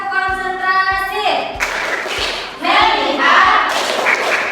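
Classroom group doing a rhythmic 'tepuk konsentrasi' clapping routine, evenly spaced claps and thumps under children's chanted voices, close and fairly loud.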